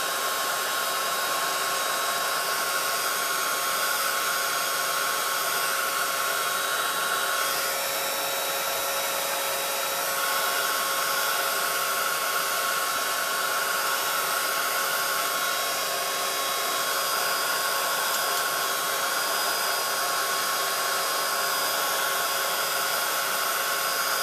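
A hair dryer blows steadily on colored crocheted flowers, a loud continuous whooshing whine with slight shifts in tone as it moves, no talking.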